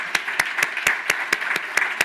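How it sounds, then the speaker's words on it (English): A conference audience applauds in a steady, evenly paced rhythm, about nine distinct beats over a soft wash of clapping, fairly close and clear. "Quick round of applause for them."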